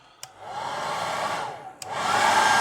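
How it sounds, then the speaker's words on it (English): A hair dryer blows steadily while heating the shrink wrap on a vape battery, close and loud. Two sharp switch clicks mark its start and a step up to a stronger, higher-pitched rush near the end. "So, get the hairdryer again."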